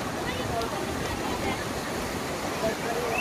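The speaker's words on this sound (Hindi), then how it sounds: "यहाँ की भी लहरें बहुत खूबसूरत लहरें हैं" Waves on Hawke's Bay beach in Karachi make a continuous, loud broadband wash of surf, steady and unbroken throughout.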